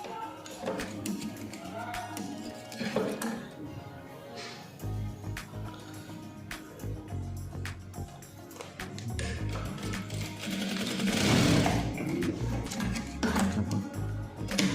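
Sewing machine stitching a shirt collar, running in uneven bursts of close, rapid mechanical ticking and whirring with pauses between runs, and a louder stretch of stitching toward the end.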